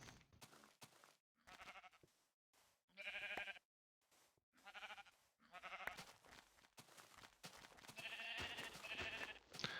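Sheep in Minecraft alpha version a1.0.1_01 bleat again and again in short, separate cries spread across the span. The cries are loud and near, and they overlap toward the end with no voices.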